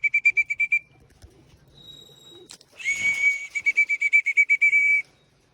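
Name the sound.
pigeons at loft during morning flight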